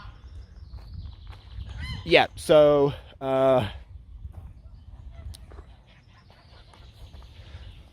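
Ducks give a few loud, brassy honking calls in a short burst outdoors, with footsteps and a brief spoken remark around them.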